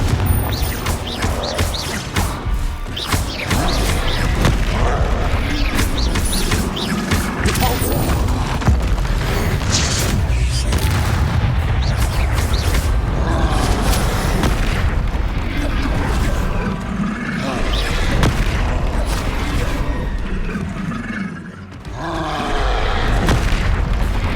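Confringo blasting spells in Hogwarts Legacy set off a loud, continuous barrage of booming explosions and crashing debris.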